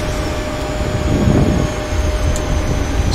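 A PMDG 737NGX's jet engines roar in reverse thrust on landing in the Prepar3D flight simulator, a loud, steady rumbling wash that swells slightly midway.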